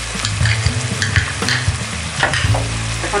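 Ground spices including chilli powder and salt frying in a pan for Bengali dum aloo, a loud close sizzle broken by repeated scraping stirs at an uneven rhythm.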